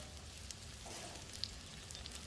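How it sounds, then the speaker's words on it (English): A faint, steady sizzling hiss of steak frying on a hot Blackstone flat top griddle, with a few tiny pops, continuous throughout. "It's starting to sizzle now"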